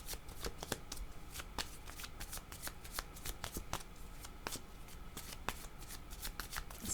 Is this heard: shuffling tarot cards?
yes